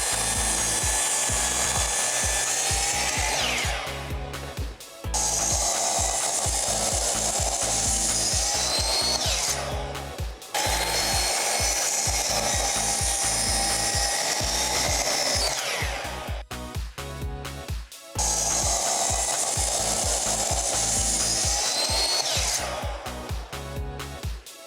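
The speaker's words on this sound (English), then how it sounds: "I'll form the geometric shape by slicing off pieces at different angles with the table saw and the skill saw" A table saw and a skill saw cut a wooden beam at angles in a workshop, making four long, loud, steady whining cuts. Short bursts of clatter and pauses separate the cuts.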